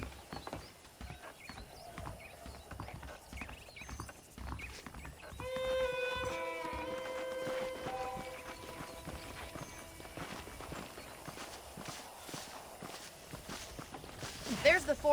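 Horse hooves clip-clop in a Red Dead Redemption ranch scene, a steady walking rhythm at moderate distance, with someone talking over it and a horse's whinny or tonal call in the middle.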